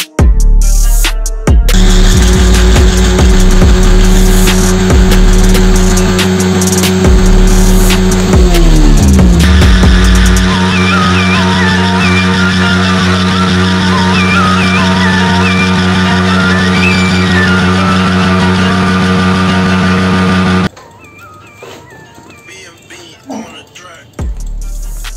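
A Yamaha R15 V3 motorcycle held in a tyre burnout, its engine revving hard and steadily at high pitch for about twenty seconds, loud and close, then cutting off abruptly near the end. Harsh mechanical roar with shifting tones.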